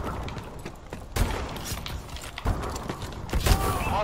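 Gunfire in Call of Duty Advanced Warfare multiplayer, a few sharp shots and bursts scattered among mechanical clicks and clatter, with heavier hits near the end.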